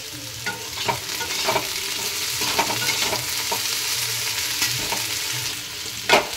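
Onion stirred into potatoes frying in hot mustard oil, loud continuous sizzling with repeated spatula scrapes against the pan and a sharper knock at the end.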